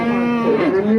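A local desi cow at a busy cattle market lets out a single loud, close, sustained moo lasting about a second.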